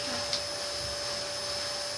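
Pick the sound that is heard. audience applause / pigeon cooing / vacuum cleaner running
vacuum cleaner running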